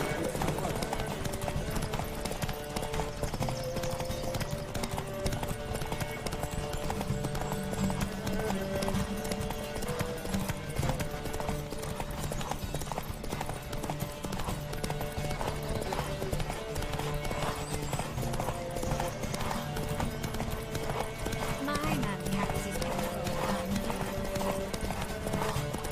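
Horse hooves clatter in a steady, fast galloping rhythm during a race in The Witcher 3 video game, continuous and dense under game music and voices talking.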